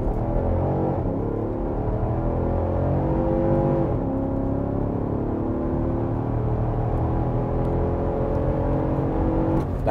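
A 2024 Nissan Patrol Warrior V8 SUV accelerates hard from a standstill to 120, its engine climbing steadily through rising gears with a brief dip at a shift, loud and continuous from inside the cabin.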